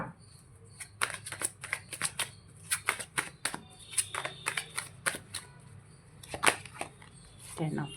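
Tarot cards being drawn and handled from a deck in a quiet room, a run of crisp snapping and shuffling flicks with irregular rhythm, close and clear, with brief soft voice sounds in places.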